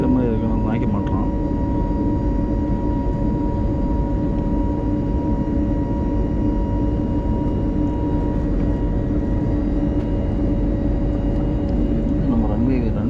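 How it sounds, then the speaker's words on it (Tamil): An airplane coming in to land on a runway, a loud steady engine drone with sustained tonal whine close by, with someone talking over it throughout. "நம்ம விமானம் வந்து லேண்ட் ஆக ஆரம்பிச்சிடும்"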